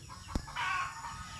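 Chickens kept at home: a short sharp click-like sound, then a brief nasal fowl call or cluck, close and fairly faint, over low background noise.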